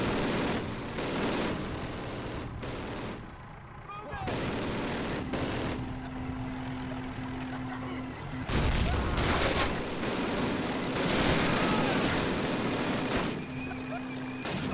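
Sustained suppressing gunfire in the World War II shooter Call of Duty 1, during a dawn village assault: bursts of machine-gun and rifle fire with booms over roughly fifteen seconds, loud and continuous, mixed with battle noise.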